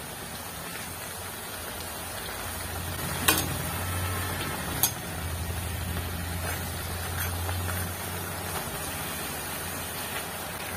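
Rice flour thattai fry in a pan of hot oil with a steady dense sizzle and crackle, a couple of sharp clinks of utensil on the pan, and a low rumble underneath, with no talk.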